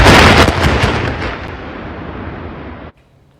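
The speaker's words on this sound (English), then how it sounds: "watch as an explosion brings down a historic Missouri bridge" Explosive demolition of the I-70 Rocheport bridge over the Missouri River: a loud, close blast with rapid crackling charges in the first half-second, then a long rumbling roar that fades and cuts off abruptly.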